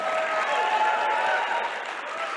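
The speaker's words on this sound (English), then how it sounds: "Let's give Vic a tremendous round of applause" An audience at a speaking event gives a round of applause, thick continuous clapping close and loud, easing a little toward the end.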